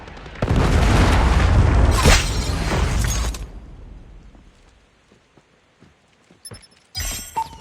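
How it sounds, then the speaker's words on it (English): A Predator missile strike explodes in Call of Duty Mobile, a loud, deep rumbling blast lasting about three seconds before fading into quiet, followed by faint clicks and a brief burst of game sounds. "Predator missile inbound."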